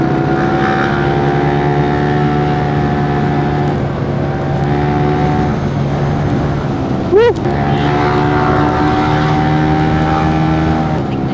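Triumph big bike motorcycle engine running steadily nearby, a loud continuous drone with a brief wavering rev in the middle, with people talking over it.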